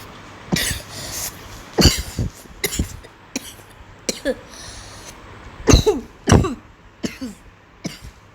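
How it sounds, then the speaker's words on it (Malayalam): Someone with a cold coughs repeatedly in harsh, uneven bursts, some single and some in quick pairs, close to the listener with quiet gaps between. "ചുമയാണ്."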